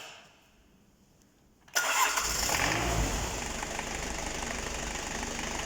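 A diesel engine cranks and fires after its glow plug is heated, cutting in abruptly from near silence into a steady, loud, rough idle that carries on to the end.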